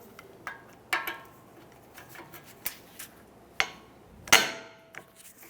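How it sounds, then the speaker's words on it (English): Two 19mm caliper bracket bolts come off a 2009-2015 Honda Pilot's front brake with a deep socket and breaker bar. Sharp metallic clicks and knocks sound irregularly, close and fairly quiet, with one louder snap near the end. "We're going to remove our two 19mm caliper bracket bolts."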